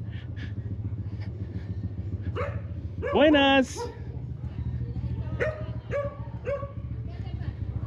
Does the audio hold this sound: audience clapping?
no